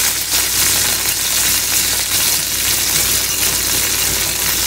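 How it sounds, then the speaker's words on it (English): Homemade gravy for smothered pork chops cooks in a hot pan as drippings are stirred and scraped around it. A loud, steady sizzle and bubbling frying noise runs without a break. "And I'm going around the pan and getting the drippings."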